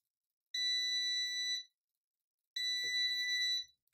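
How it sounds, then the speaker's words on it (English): An Eenour heat press machine for hats beeps in two long, steady electronic tones, each about a second long with a pause between, loud and close in a quiet room, with a brief faint clunk during the second beep. "I wanted to see if that beeping would stop or if it would go continuously, and it was going continuously."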